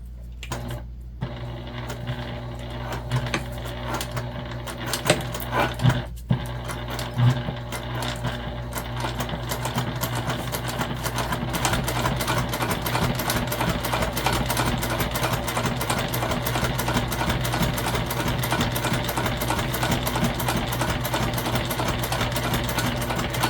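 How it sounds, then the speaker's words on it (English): A sewing machine top stitches a zippered fabric pouch, humming in a steady, even rapid whir that runs continuously and loudly, with a few faint taps and clicks near the start and no talking. "Okay, so we're top stitching right here, which will hold down our interior fabric away from our zipper"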